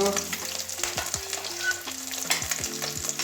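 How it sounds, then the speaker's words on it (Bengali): Tangra fish frying in hot oil, a constant crackling sizzle broken by repeated scrapes and taps of a spatula in the pan, close and clear with no talking. "এই যে লাল লাল করে ভেজে নিয়েছি সব ট্যাংরা মাছ"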